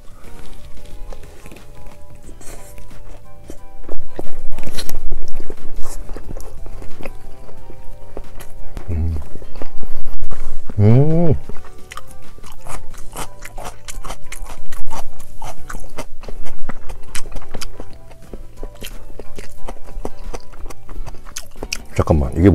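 Assorted sushi being bitten and chewed close to the mic, with soft wet mouth sounds and bites spread throughout. A person talks over much of it and gives a few short exclamations.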